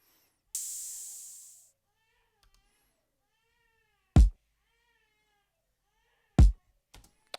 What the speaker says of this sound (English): Open hi-hat.